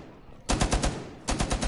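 Automatic gunfire in Rainbow Six Siege comes in two rapid bursts of loud, close shots with a short gap between them.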